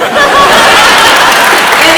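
Audience applause at a university open forum on the SPSU and KSU merger: steady, dense clapping that fills the room, close and loud, with light chuckling mixed in.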